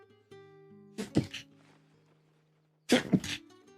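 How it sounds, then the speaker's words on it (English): Two sneezes a couple of seconds apart, each a sharp burst over a quiet background with a faint steady tone, heard during Final Fantasy XVI gameplay. "Oh, excuse me, I had a sneeze."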